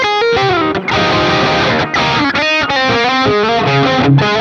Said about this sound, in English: we have the bridge pickup over here, and that's going to be excellent for all your rock and metal needs